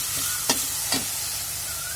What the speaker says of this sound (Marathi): तर इथे मी मटकी घेतली आहे. आणि छान त्याला आपण परतून घेणार आहोत.